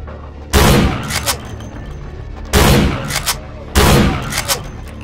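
Gunfire in the video game Vampire: The Masquerade – Bloodlines, three loud, close bursts of shots spaced about a second and a half apart, each trailing off with a rattle.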